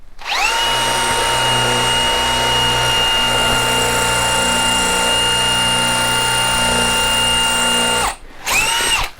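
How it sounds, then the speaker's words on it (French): A Bosch GSR 18V-150C cordless drill bores into solid concrete, its loud, steady motor whine running close up for about eight seconds, cutting out briefly, then starting again near the end. "donc on va percer ça et puis on verra ce que ça donne"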